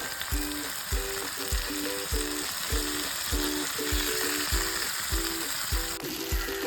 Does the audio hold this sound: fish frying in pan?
yes